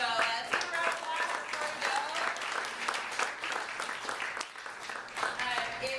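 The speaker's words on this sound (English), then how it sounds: "So let's give a round of applause" An audience at an evening sponsors' event gives sustained applause, a thick bed of clapping with some crowd noise and voices mixed in, moderately loud and steady throughout.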